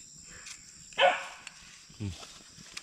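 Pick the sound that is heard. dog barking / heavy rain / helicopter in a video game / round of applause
dog barking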